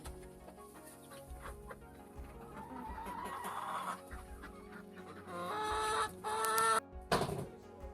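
Rooster and several chickens clucking in a coop with newly added birds, a loud close burst of clucks and squawks near the end over a steady background of softer calls.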